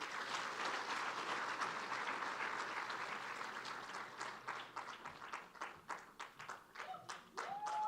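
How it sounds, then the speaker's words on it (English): Audience applause at a graduation ceremony, a dense sustained clapping that thins toward the end into scattered individual claps, with a brief faint voice near the close. "May you please give another round of applause to Papa Amata Belize"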